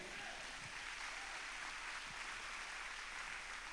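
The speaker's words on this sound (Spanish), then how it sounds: "Alguien dale un aplauso al Rey." Church congregation applauding steadily at a distance, a dense, even wash of clapping with no voices over it.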